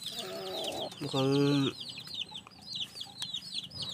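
A wild junglefowl hen (labuyo) clucks close by, a low rapid burst of clucks standing out over continuous high chirping from chicks nearby; someone speaks briefly.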